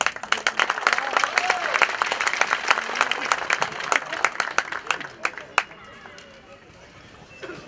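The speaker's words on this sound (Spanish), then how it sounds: "pido un aplauso también para él" An audience at the opening of an international senior tournament applauds with dense, lively clapping that thins out toward the end as individual claps fade, with talk underneath.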